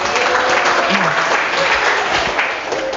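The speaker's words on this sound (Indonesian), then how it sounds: "Oke, tepuk tangan untuk kita semuanya." Audience clapping at a teaching workshop session for lecturers, dense and steady at close range throughout, with some voices mixed in.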